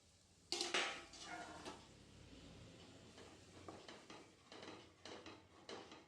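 Roasted besan is stirred into onion zunka in a pan: a sharp utensil clatter at the start, then repeated scraping and stirring strokes over a faint sizzle.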